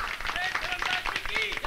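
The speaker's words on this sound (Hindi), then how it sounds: "तालियां।" Clapping from a crowd at a by-election victory rally, a busy patter of hands mixed with overlapping voices for under two seconds.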